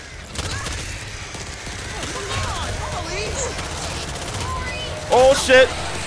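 Rapid bursts of gunfire from the video game Back 4 Blood crackle continuously through a chaotic firefight, with sharper, louder shots spiking near the end while players talk excitedly over the din.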